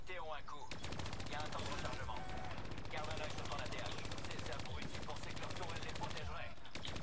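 A turret in the Call of Duty Black Ops 3 campaign fires rapid, continuous bursts, loud and relentless for several seconds, with a voice under the gunfire.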